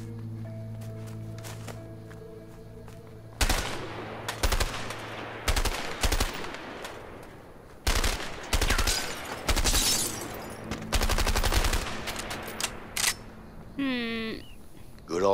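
Repeated bursts of gunfire ring out while shooting at empty houses in the video game A Way Out, with sharp loud volleys and short pauses between them, and a voice talking in the gaps.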